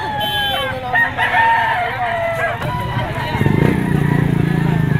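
Gamefowl rooster crowing at the Padre Garcia auction market in Batangas, a couple of wavering crows rising over a busy crowd with talk throughout, more birds calling and a low engine rumble joining toward the end.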